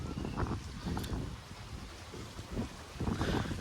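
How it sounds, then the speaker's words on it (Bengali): Wind blows outdoors in strong, uneven gusts that buffet the microphone with low rumbling surges, loud and continuous with no talking. "দেখো বাতাস হচ্ছে কি সুন্দর"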